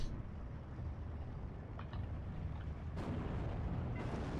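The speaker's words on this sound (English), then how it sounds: "the German tank did blow up" A German Panther tank blowing up in the video game Steel Division 2, heard as a dense rumbling battle din with a sharp blast near the end and another burst just after.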